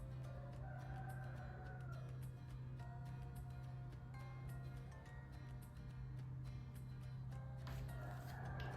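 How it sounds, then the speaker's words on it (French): Neighbour's hens and roosters in the distance, clucking and crowing at intervals, faint against a steady low hum, with no talking. "c'est les poules du voisin qui commencent à chanter. Ou les coqs, plutôt."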